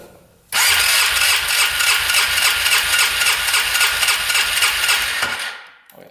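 An ATV engine cranks continuously with the throttle held open during a compression test, a loud, steady, rapid whirring churn that starts abruptly, runs about five seconds and then winds down.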